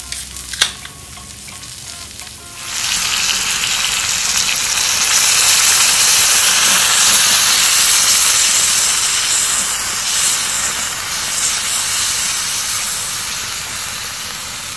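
Food sizzles steadily over an open fire, a broad loud hiss rising after a quieter start and holding for over ten seconds with no talking.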